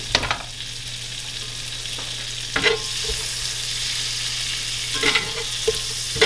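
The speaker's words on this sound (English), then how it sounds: "We'll let that saute for a minute." Onion and garlic sauté steadily in a pan with a soft continuous sizzle, broken by a few brief scraping stirs of the utensil.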